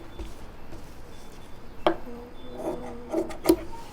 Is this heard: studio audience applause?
no